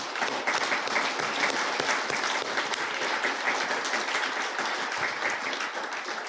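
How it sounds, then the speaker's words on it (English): Sustained audience applause during a mayor's State of the City address, a dense, even wash of many hands clapping that holds steady throughout without any talking. "So that deserves a round of applause all by itself."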